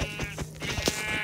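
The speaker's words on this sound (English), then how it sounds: "Sorry, sheep. I just need a bed." Sheep bleating in the Minecraft video game, one short wavering bleat in a brief burst over steady game background sound.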